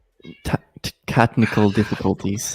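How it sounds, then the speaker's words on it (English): A house cat yowls loudly and close by during a live online chat, its cries mixed in with continuous talking voices. "Is that your cat screaming at us right now?"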